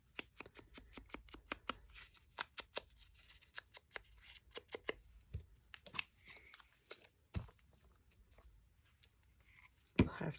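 A paper tag is trimmed with scissors in a crafting session, making a quick series of crisp snips and papery rustles, then sparse handling clicks at close range.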